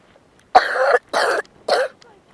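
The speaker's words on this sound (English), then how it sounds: "sorry for my cough. I'm sick." Three harsh coughs in quick succession from a sick person, close and fairly loud, with brief silences between them.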